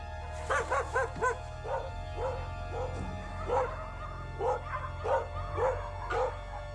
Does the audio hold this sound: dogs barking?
yes